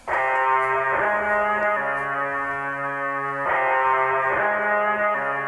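A slow, spacious beat with sustained tonal chords, halftime feel, echoing delay and a huge washy reverb tail; steady and fairly loud throughout.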